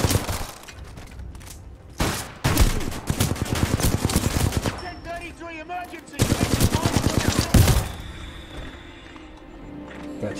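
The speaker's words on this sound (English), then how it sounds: "Those shotguns hit hard." Shotgun fire in the shooter game Titanfall 2: several loud, hard-hitting blasts in quick bursts with busy game action between them, then a quieter stretch at the end.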